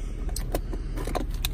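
Close, bright jangling of the keys to a 2020 Jeep Cherokee in several quick rattling bursts inside the vehicle, with no talking.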